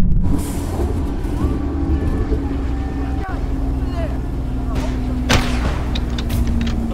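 Missiles fire in the horror train game Choo Choo Charles over a constant droning engine hum, with a few sharp, booming bursts standing out from the steady rumble.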